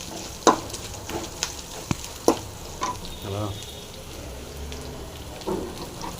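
Dal and shallots fry in a pan with a soft, steady sizzle, broken by a few sharp clicks and clatters of stirring near the start and middle.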